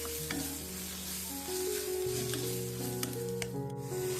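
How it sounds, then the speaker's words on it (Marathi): Spices being stirred into softened, browned onions in a frying pan for restaurant-style chicken sukka, with a steady close sizzle and scraping stir strokes throughout, no talking. "त्याच्यात हे सर्व मसाला घालायचं आणि हे सर्व मिक्स करून घ्यायचं"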